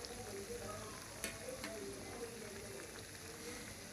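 Bhajia (Swahili-style fritters) frying in hot oil with a steady close sizzle and crackle, broken by a few sharp clinks and scrapes of a utensil stirring the pan.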